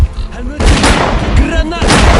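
Loud booms and bursts of gunfire fill a firefight in the video game STALKER: Clear Sky, with a grenade blast among them, heavy low rumble and voices talking over the action.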